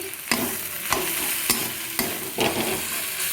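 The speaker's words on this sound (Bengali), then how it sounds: "দেখো নেড়ে নেড়ে আমি ভাজা ভাজা করে নিয়েছি" Crushed pointed gourd stir-fries with green chilies, a close sizzle punctuated by about six rhythmic scraping stirs of a spatula against the pan, with no speech.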